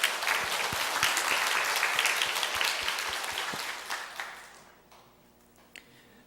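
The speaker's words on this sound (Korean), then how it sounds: "하나님께 기쁨과 영광의 박수를 올려드립니다." A church congregation applauds during a Korean service, loud sustained clapping that thins out and fades to scattered claps and near quiet by the end.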